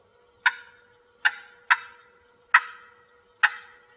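Five quick yelps on a turkey call imitate a turkey, alternating high and low, with short crisp notes at uneven intervals over a low background hum and no speech.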